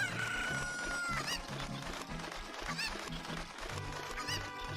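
Cuccos, the chickens of the video game Ocarina of Time, cluck and crow in repeated squawks over rhythmic game music, loud and close throughout.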